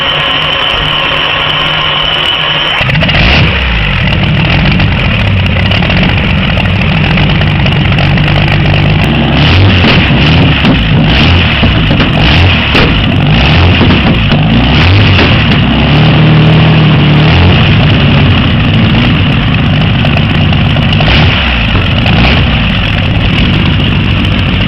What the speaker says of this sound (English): This supercharged beast, built on a 1930 Bentley chassis, spits flames with raw fury.